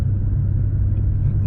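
BMW M8 Competition engine in a quick first-gear blast on an open road, a deep, steady rumbling drone heard from inside the cabin with no talk.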